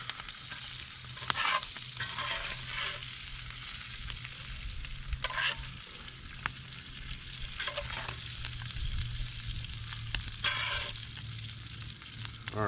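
Sausage cooks over an open campfire, giving a steady close sizzle with occasional brighter crackling bursts of fat and a low hum underneath, with no talking.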